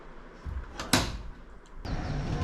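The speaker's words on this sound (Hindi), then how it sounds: "सामने का दरवाजा लगा दे।" A front door at home is swung shut, with a rustling slide, a sharp knock as it meets the frame, then a scrape and rattle of the latch, close by, with no voices.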